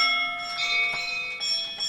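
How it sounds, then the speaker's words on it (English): Bright, tinkling bell tones from the Octane synthesizer ring out with a shimmering, airy sustain, several soft strikes overlapping over two seconds. "I like tingy bells like this."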